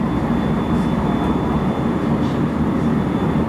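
A JR West rapid train, service 311, pulling out of a station, heard as a loud, continuous low rumble of rolling stock and motor noise, steady throughout with a faint high whine above it.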